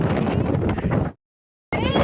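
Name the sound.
strong wind blowing at the seashore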